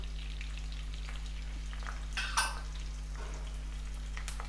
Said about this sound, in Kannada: ಇದನ್ನ ಸ್ವಲ್ಪ ಫ್ರೈ ಮಾಡೋಣ